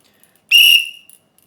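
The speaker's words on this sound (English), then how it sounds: "It's a very, very loud whistle" A survival kit whistle gives one short, shrill blast, loud and close, lasting about half a second before trailing off, alone against silence.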